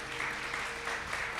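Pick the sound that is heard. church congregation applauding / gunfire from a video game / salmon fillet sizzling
church congregation applauding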